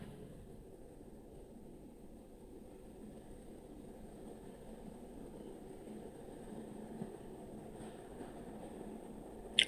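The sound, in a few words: suburban train arriving and stopping at Puzhuthivakkam station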